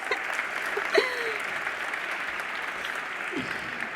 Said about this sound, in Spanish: el primer aplauso es para vosotros